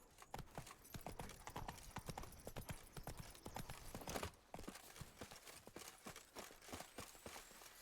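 Roach, a horse in the video game The Witcher 3, gallops with rapid, continuous hoof clip-clops at a steady driving rhythm, close and fairly loud, no speech.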